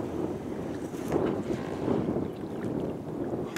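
Steady wind rushes across the microphone on a river in Buriram, Thailand, during a fishing trip, a continuous broadband roar that swells and eases in gentle gusts, with no voices.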